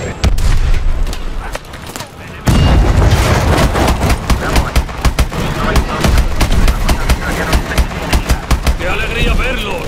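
Dense bursts of gunfire and booming pressure explosions from Call of Duty Advanced Warfare, loud and continuous, with a brief lull before heavy rapid fire resumes; voices shout over the battle.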